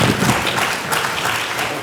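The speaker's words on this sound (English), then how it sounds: "So give him a round of applause." Audience applause at a public realm roundtable session, a dense burst of clapping from a room of people, steady and fairly close.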